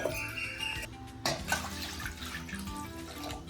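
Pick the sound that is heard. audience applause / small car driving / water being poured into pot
water being poured into pot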